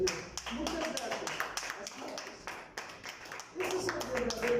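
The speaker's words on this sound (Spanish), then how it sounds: "¿Cuántos le dan un aplauso al Señor?" A church congregation claps in praise during a service, a brisk burst of applause from a crowd under a speaking voice that carries throughout.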